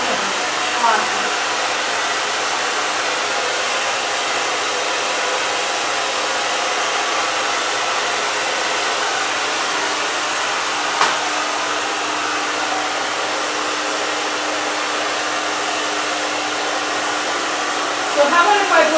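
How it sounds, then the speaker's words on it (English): A hair dryer blows hair in a steady, loud, continuous whoosh that holds unchanged for the whole stretch, with a brief knock near the end. "How about if I blow dry your hair"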